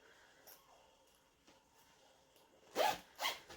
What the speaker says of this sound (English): Then we can zip that up.